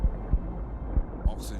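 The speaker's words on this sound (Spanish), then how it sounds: "Podía sentir cada uno de los latidos dentro de mi cabeza." A slow, deep heartbeat thumps at regular intervals, four low pulses in under two seconds over a steady hum, as if heard underwater inside the head, with a faint hiss rising near the end.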